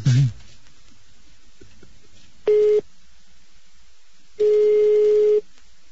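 A telephone being dialed for a call gives two clean steady electronic tones, one short and one longer about a second, separated by silence, after a brief low murmur at the start.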